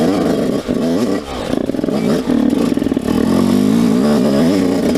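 A dirt bike engine with a broken clutch cable runs loud and close, holding a rough, throaty idle and then rising in a steady revving drone, with clattering mechanical noise underneath.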